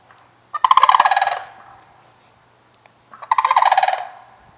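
A bird gives two loud, rapid turkey-like gobbling calls nearby, each a rattling burst about a second long, separated by a quiet pause.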